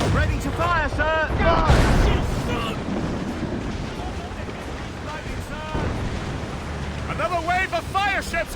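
Ship cannons firing in a naval battle in Assassin's Creed Rogue: heavy booming blasts amid rushing wind and sea noise, with shouted voices giving orders over the din.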